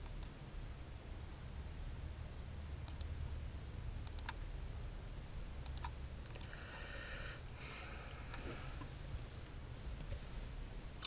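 Sparse clicks and taps on a computer keyboard and mouse while working in SolidWorks, irregular isolated keystrokes spread over the stretch, faint and close with no talking, and a brief rustle partway through.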